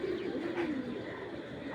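Black racer pigeons give a low, soft cooing close by, a brief continuous murmur with no talk over it.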